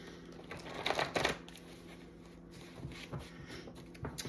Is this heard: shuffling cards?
yes